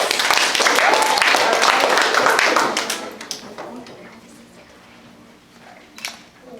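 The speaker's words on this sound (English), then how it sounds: "So put hands together for all of us winners" An audience at a public speech contest applauds the winners with a dense, steady burst of clapping that fades after a few seconds, leaving a few scattered claps and faint room noise.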